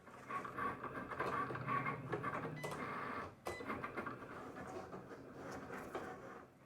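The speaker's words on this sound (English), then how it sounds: "now we're just going to load it into our machine and cut it out" A Cricut cutting machine slicing a stencil from craft board on a sticky mat, a faint, steady mechanical whir with rapid rhythmic ticking and clicking that pauses briefly midway, then resumes.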